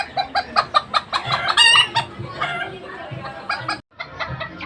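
A bantam hen clucks in a quick, repeated series close by, with a brief squawk, followed by softer intermittent clucks.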